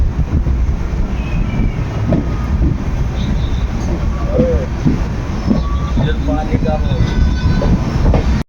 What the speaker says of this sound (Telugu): బాయ్ బాయ్ బోజో అని చెప్పుకుంటూ బండి ముందుకెళ్తుంది